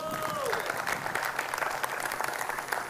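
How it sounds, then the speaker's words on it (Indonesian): An audience at an international leadership training event claps in a dense, steady round of applause, moderately loud, with a brief whistle-like tone at the start. "Tepuk tangan untuk datuk kayak ini"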